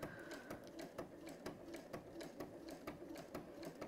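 A sewing machine stitches leather slowly and faintly, its needle thumping in a steady rhythm of roughly three to four strokes per second with light mechanical whirring between, alone without talking.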